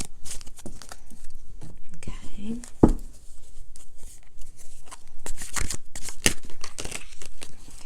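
Tarot cards being shuffled and handled, with crisp rustling, riffles and snaps at close range mixed with soft breathy murmurs and quiet speech.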